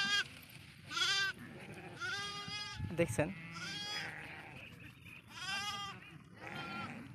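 Goats bleat repeatedly at a riverbank cattle market on a Padma river char, near the India–Bangladesh border, with several separate calls rising over the crowd noise and people talking close by.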